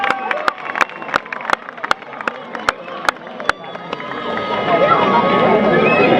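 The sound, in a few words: applause at kabaddi match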